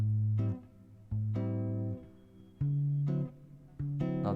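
Jazz guitar chords strummed in sequence, with short muted strokes alternating with chords left to ring, each chord sustaining about a second before the next, played close and clearly without talk.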